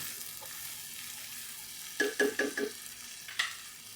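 Corned beef dropped into a pan of frying tomatoes, a soft steady sizzle breaking into a few quick bursts of scraping and spattering, then one more brief clatter near the end.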